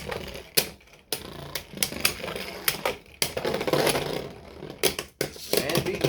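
Beyblade Burst Surge tops, including Infinite Achilles, spin and clash in a stadium, producing rapid clattering hits and grinding whirs in bursts, interrupted by several sharp sudden stops, with a person talking over the action.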